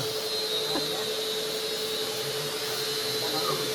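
A blower machine runs with a steady, loud whooshing roar as it dries paint on a Ganpati decoration, with people talking faintly beneath it.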